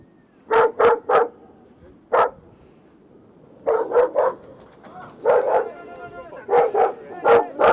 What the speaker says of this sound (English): Get that dog. Get the dog.